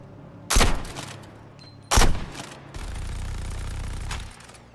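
Two sharp, loud gunshots a little over a second apart, fired at a sealed lift in a video game, followed by a steady mechanical rumble as the lift starts up.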